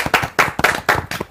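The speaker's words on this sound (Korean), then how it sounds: "자 집중 박수 한번 칩시다." A few people clap sharply in unison at a Korean livestream event, giving several crisp, closely spaced claps in a quick rhythm, close by with no voices over them.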